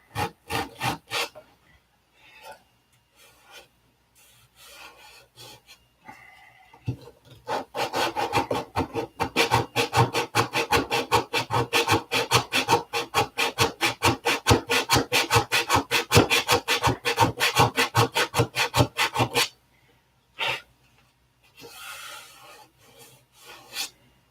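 Sandpaper rubs back and forth over filler on a wooden surface, a fast steady run of rasping strokes that starts hesitantly, keeps an even rhythm for about twelve seconds, then stops and resumes briefly. Close and fairly loud, with no talking.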